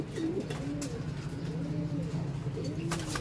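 Racing pigeons coo softly in repeated low, rolling calls, fairly close in a quiet loft setting, with a faint steady background hum and occasional brief rustles.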